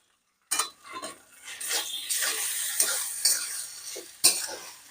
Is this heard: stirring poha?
yes